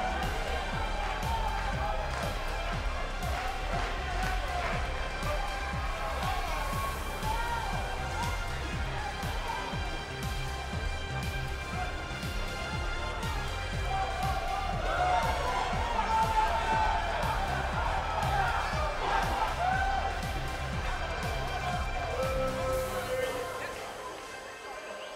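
Sold-out arena crowd at a wrestling match, a dense steady roar of voices and cheering that swells in the middle before fading slightly at the end, with music-like tones running underneath.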